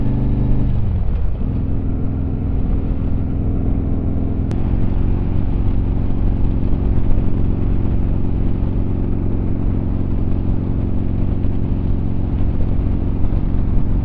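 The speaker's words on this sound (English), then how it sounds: "there's a lot of bikes behind me" Large group of motorcycles, including a 2020 Harley-Davidson Road Glide, cruising on a highway: a steady, close, low engine rumble with one brief shift in pitch early on, with no talking.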